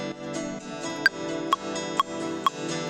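Rhythm guitar part for a trance track, a steady chugging pattern of repeated chords with sharp ticking accents roughly every half second, played alone at moderate level.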